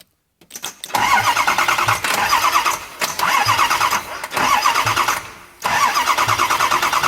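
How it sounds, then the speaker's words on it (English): A 2008 Ford 6.4 diesel engine cranks over in several repeated bursts, a loud, close, rhythmic churning with brief pauses between cranking attempts. "you need to crank the engine and you're pretty sure that it's safe to do so"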